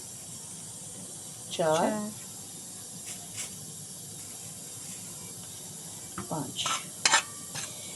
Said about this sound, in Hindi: ये मैदे को अच्छी तरह फ्राई करना है